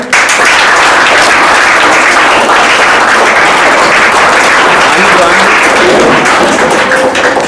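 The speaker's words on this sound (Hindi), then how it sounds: "ताली बजाओ भाई" Loud, close applause from a class of students as a prize winner is called to the stage, dense continuous clapping filling the room, with the voice of someone talking mixed in beneath it.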